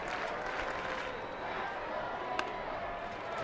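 A ballpark crowd at a San Francisco–Arizona baseball game rumbles with diffuse cheering and scattered clapping, steady and far off, one sharp crack standing out briefly.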